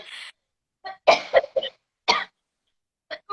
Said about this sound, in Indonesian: aku batuk, sorry ya